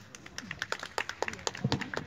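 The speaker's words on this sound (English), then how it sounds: "Let's give her a round of applause." A small audience at a neighborhood meet-and-greet gives scattered, uneven clapping, moderately near, while a voice talks over it.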